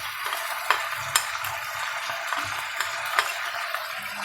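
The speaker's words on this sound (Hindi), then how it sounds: "अब हम इसे सही तरीके से भूनेंगे।" Chopped chillies, ground chilli, turmeric, coriander and salt fry in hot oil over high heat for masala kaleji, a steady close sizzle broken by sharp scrapes and clinks of a spoon stirring the pan.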